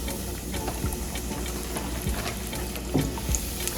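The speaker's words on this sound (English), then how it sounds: "we're gonna drop our wings and fry them" Chicken wings fry in oil for smothered fried chicken, giving a steady bubbling sizzle with a few low knocks, close and even throughout, with no talk.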